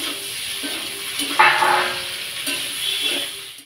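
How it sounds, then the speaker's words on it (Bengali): Vegetables and brinjal sizzle lightly in a pan of oil, a steady soft frying hiss with a brief louder flare and faint stirring clinks, close and moderate in level. "বেগুনটা দিয়েও হালকা করে ভেজে নেব।"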